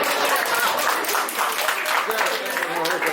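An audience clapping at a Nepalese cultural and musical evening in Oslo, a continuous wash of many hands from a full hall, steady and fairly loud throughout with no pauses.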